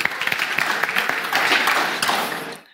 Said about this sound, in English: Give it a round of applause for Adam.